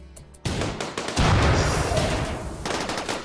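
Heavy gunfire and explosions from the Warhammer 40k-style game Thronebreaker Legion, a loud continuous barrage of overlapping shots and booms that starts suddenly and keeps roaring.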